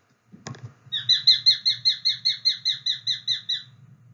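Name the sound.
sharp-shinned hawk call recording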